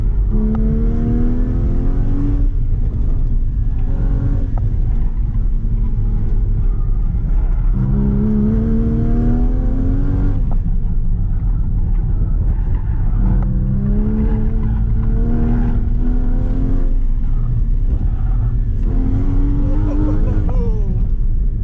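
A car at an autocross event accelerating repeatedly, with engine revs climbing in pitch, dropping on shifts and surging again in rhythmic bursts, loud and continuous throughout.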